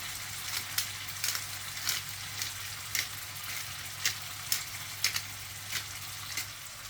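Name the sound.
fish frying in a pan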